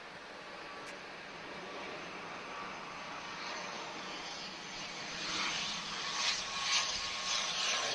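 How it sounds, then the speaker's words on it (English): TAP Airbus A330 airliner moving at Lisbon Airport, a distant steady jet engine whine and rumble that grows slightly stronger toward the end, with no voices. "we have a TAP A330 on the move as well"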